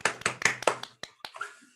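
Quiet hand claps at a live-streamed show, about eight soft irregular claps close by, some sharper and some muffled, with no talking.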